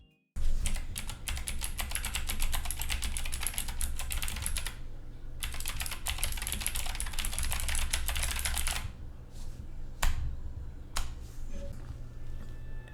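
Rapid clicky typing on a mechanical keyboard with heavy Gateron green switches, an Epomaker GK96S, dense and close, with a brief pause midway and a few isolated heavy keystrokes near the end.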